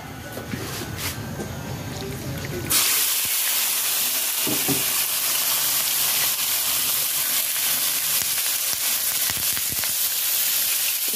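Meat for Filipino adobo chino hits a hot pan, and a loud, steady hiss and sizzle takes over suddenly and continues without break, close and bright, after a quieter stretch of kitchen noise.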